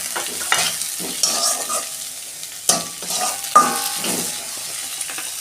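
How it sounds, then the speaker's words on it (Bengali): Onion and tomato frying in a pan for a soybean curry, a close, steady sizzle broken by several louder scraping stirs, with no voices. "পেঁয়াজটা আমি একটু লাল লাল করে ভেজে নেব"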